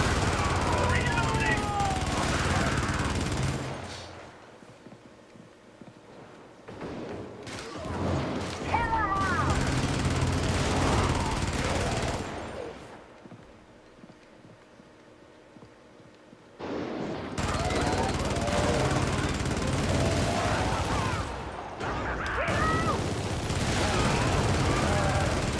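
Friendly gunfire in a video game: close, loud bursts of rapid automatic fire in several stretches, separated by quieter gaps.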